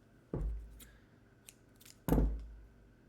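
Scissors cutting felt for handmade felt food, heard as two distinct crunchy snips close by in a quiet room, with a few faint light rustles between them and no speech.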